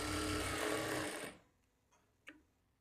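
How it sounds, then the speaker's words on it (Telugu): Sewing machine stitching a blouse lining shoulder seam runs steadily for just over a second, then stops, followed by a couple of faint clicks and a small handling tap in quiet. "ఇలా స్టిచ్ చేసుకున్న తర్వాత ఇప్పుడు ఇదే స్టిచ్ మీద ఇంకొక స్టిచ్ వేసుకోవాలి"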